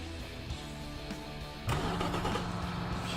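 A 5.8-litre V8 engine in an 1980s off-road utility vehicle in BeamNG turns over and catches partway through, settling into a steady, rumbling idle after a quieter mechanical lead-in.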